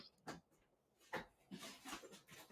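A puppy whimpers faintly in a quiet room, giving a few short, soft whines and yelps with pauses between them, no talk.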